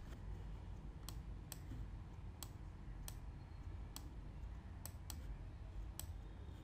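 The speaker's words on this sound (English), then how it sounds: "So I will right click on this" Computer mouse clicks while working in an Excel spreadsheet: around ten sharp, close, isolated clicks at irregular intervals over a quiet room hiss.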